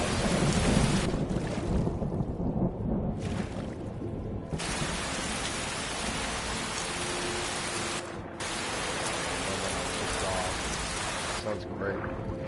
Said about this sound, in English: Love that thunder sound that they do